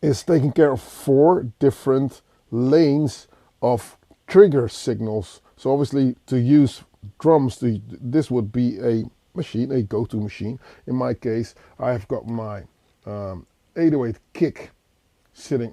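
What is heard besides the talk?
No distinct noise like a dog, phone or traffic.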